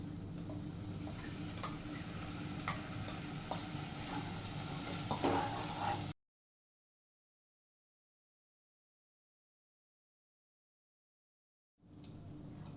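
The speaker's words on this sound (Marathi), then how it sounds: "यामध्ये मी आता पास्ता टाकत आहे." Pasta tipped into a pan and stirred: about six seconds of close stirring, light sizzling and utensil clinks, then a long silent gap before the cooking sound briefly returns.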